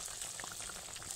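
Tangra fish oil-chili curry bubbling in a pan, a steady soft sizzle with scattered small pops and bursts, close and fairly quiet, no talking.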